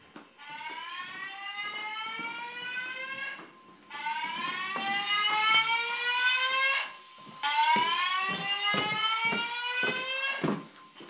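Fire alarm speakers sound during a system test: three long bursts of a rising sweep tone with strong harmonics, each lasting about three seconds with short gaps between them, loud and steady.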